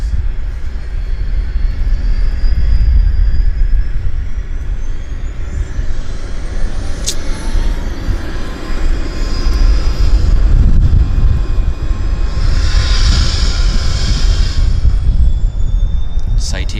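A vintage business jet's engine spools up with a rising whine over a loud, continuous roar, heard from nearby outdoors at Vancouver Airport, with a voice briefly audible.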